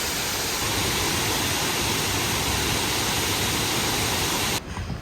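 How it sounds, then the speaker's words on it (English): Constant broadband roar of a waterfall in Jeju, Korea, a dense rushing wash of falling water with no breaks, heard up close for several seconds before dipping slightly at the end. "The waterfall is really pretty."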